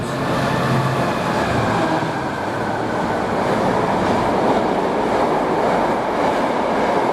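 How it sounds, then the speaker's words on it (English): Class 66 diesel freight locomotive 66427 hauling a Daventry to Coatbridge freight past the platform at Nuneaton on the West Coast Main Line: a loud, steady roar of engine and rumbling wagons at speed, filling the whole stretch without talk. "the next train to pass by, we've got a Daventry to Coatbridge, class 66427 with some good tones"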